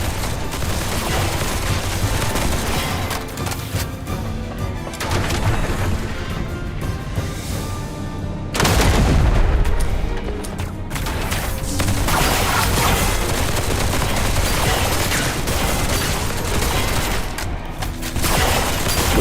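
Rapid, dense bursts of gunfire crackle almost continuously in the shooter game Duet Night Abyss, with a heavy blast partway through and loud battle noise throughout.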